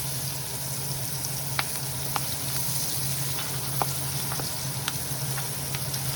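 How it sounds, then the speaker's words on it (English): Green chilies, onion and garlic hiss and sizzle in hot oil for a tadka, a steady close crackle with a few sharp pops scattered through it and no voices. "Throwing in the green chilies, onion, the garlic"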